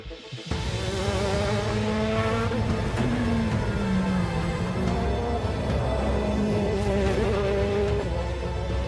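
A WRC rally car on a test stage, fitted with development dampers, roars steadily past with a rising and falling engine note and gear changes. It starts abruptly, stays loud and close throughout, and no one talks.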